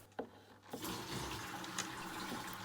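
Siphon hose sucking water and debris from the gravel bottom of a home fish tank during a water change, a steady close gurgling rush of flowing water that starts abruptly after a brief quiet moment and continues throughout.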